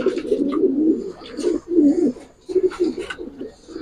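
Racing pigeons coo in soft, repeated rolling phrases, close by on a pigeon farm, with a few brief sharper sounds in the background.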